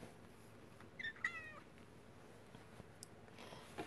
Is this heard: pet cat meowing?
yes